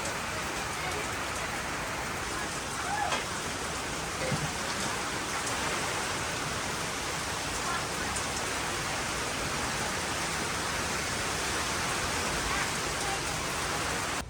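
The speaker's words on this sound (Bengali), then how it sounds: "আবারও প্রচণ্ড বাতাস উঠে আসছে" Steady heavy rain with strong gusting wind during Cyclone Remal, betel nut palms bending nearby, a dense continuous broadband roar lasting throughout with brief louder surges, no distinct voices.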